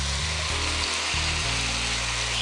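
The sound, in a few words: shrimp sizzling as added to pan with minced garlic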